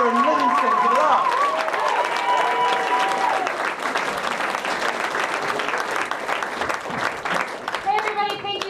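An audience at a stand-up comedy show in Denver breaks into loud, sustained clapping and cheering for comedian Erin, a dense crowd wash with a voice over the start.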